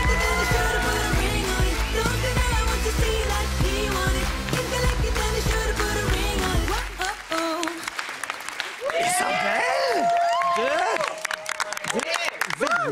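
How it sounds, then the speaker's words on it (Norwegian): Applause for dancers Isabel, Benjamin and Martine on a televised ballroom dance show, swelling under loud band music for several seconds, then continuing as sustained clapping and crowd noise while a voice speaks over it. "Det er bare å gi en varm og stor applaus til disse gangster-bitches"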